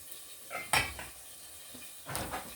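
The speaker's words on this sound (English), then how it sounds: "I'm going to go ahead and chop my garlic here" Garlic is chopped with a knife on a cutting board, a few sparse, sharp knocks spread across a quiet kitchen with no talking.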